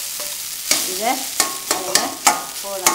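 Aval being stirred into hot tempering in a pan for Srirangam radhu-melagu aval: a spoon scrapes and knocks the pan in repeated sharp strokes over a steady close sizzle, with a brief spoken line.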